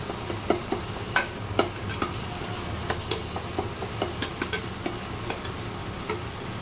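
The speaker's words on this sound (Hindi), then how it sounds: "थोड़ा सा इसको मैश कर देंगे।" Boiled peas cooked with turmeric and salt are mashed into a spiced masala in a pan, giving soft scraping and stirring with light sizzling and scattered sharp clicks of the utensil against the pan, close and steady with no talk.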